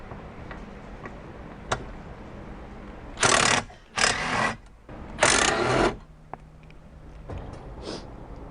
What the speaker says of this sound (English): We're going to be using an 8mm socket to remove it.